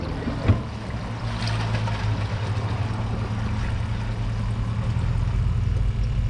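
An American Standard Champion 4 toilet flushing, a steady low rushing of water that starts with a sharp click and holds evenly throughout, close by with no voices.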